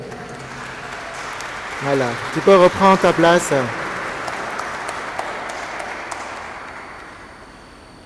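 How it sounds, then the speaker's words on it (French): A congregation applauds during an Advent Sunday Mass in the church of St Martin d'Esquermes. The steady, rain-like clapping runs under a voice that speaks briefly, then slowly fades toward the end. "Voilà, on peut l'applaudir."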